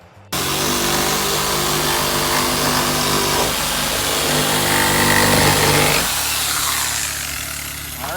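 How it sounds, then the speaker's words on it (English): A loud power drill runs steadily for about six seconds, boring holes into the wooden siding of a small DIY micro cabin, its motor whine holding constant, then dropping to a lower, rougher tone near the end. "we're drilling holes in the siding now"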